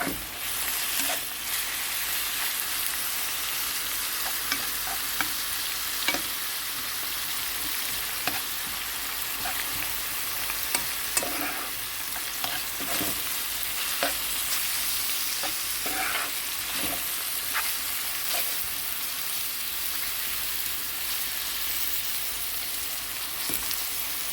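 Continuous crackling sizzle of vegetables frying in a pan for borscht, with occasional spatula scrapes and pops, close and fairly loud.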